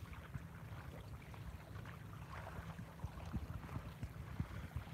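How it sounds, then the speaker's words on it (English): Small sailing dinghy moving wing on wing in light air, with soft, continuous splashing of water against the hull and a low, steady rumble of wind, quiet and close with no talking. "the only noise out here is the dinghy splashing through the waves and the flutter of the sail now and then"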